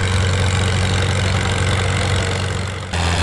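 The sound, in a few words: International vintage tractor engine during a tractor pull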